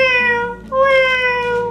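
A person mimics a newborn kitten's meow, a high, thin voice making two drawn-out mewing cries, close and fairly loud with no other sound.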